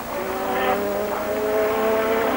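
Ayrton Senna's Formula 1 car at the 1986 Spanish Grand Prix accelerates onto the straight, a moderate high-pitched engine wail with rising gear pitches and faint crowd ambience behind.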